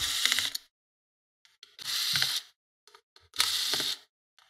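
A Lenovo IdeaPad 110 laptop's heat sink screws being driven out with a small powered screwdriver, three short whirring bursts separated by quiet gaps and light clicks, close and fairly loud.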